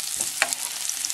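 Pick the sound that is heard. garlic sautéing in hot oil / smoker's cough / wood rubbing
garlic sautéing in hot oil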